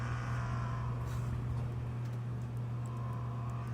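Race trucks circle Bristol Motor Speedway during the Wrangler 100, a steady distant engine drone with a faint rising pass near the end, heard alone at low level.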